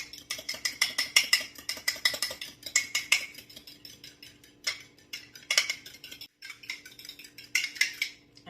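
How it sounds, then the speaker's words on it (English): Three eggs whisked with a fork in a cup: rapid, rhythmic clinking taps of metal against the cup's side, coming in steady bursts with a few short pauses, close and clear, with no talking. "with a fork, we're going to give those just a little bit of a whisk"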